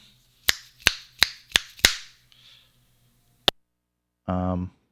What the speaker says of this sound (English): Let's get some finger snaps in here